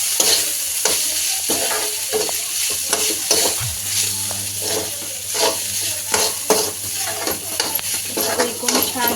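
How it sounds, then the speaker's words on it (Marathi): Food stirred and mixed in a hot frying pan for a breakfast dish, with a loud continuous sizzle and repeated scraping strokes of a spoon against the pan, close and steady throughout, no talking. "आता याला घेऊया मिक्स करायचं असं"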